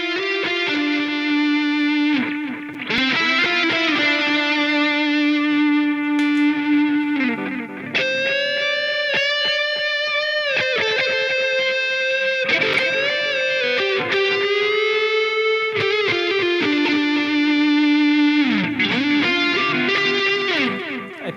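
PRS NF3 electric guitar played through effects and distortion, sustained overdriven notes and bends with rich harmonics and swelling phrases, loud and continuous, without any voices.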